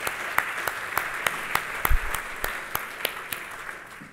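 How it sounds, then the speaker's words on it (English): Audience applause at a Brownfields luncheon in Oklahoma, a room of clapping hands that sounds moderately loud and steady, with a few sharper claps standing out near the start, and no talk over it. "Let's give him another round of applause."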